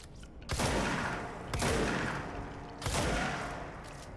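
Three heavy shotgun blasts in the video game Control, spaced about a second apart, each a loud, close boom whose rumbling tail fades before the next shot.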